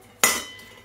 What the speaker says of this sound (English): So I'm just going to ladle the soup into here.